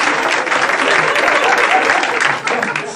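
Studio audience applause on the Turkish talk show Konuşanlar, a dense, loud wash of many hands clapping at once that holds steady for a few seconds, with some voices mixed into the noise.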